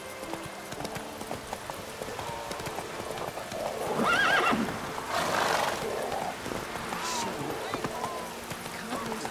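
A horse in The Witcher 3: Wild Hunt gallops with rapid, steady hoof clip-clops, and a whinny rises midway, while voices talk over the game sounds.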